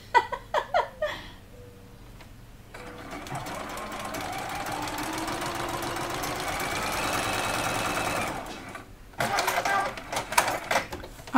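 After a few quick clicks, a sewing machine stitches quilt sashing at a short stitch length, a sustained close whirring run of several seconds that stops abruptly, followed by more clicks and handling noises.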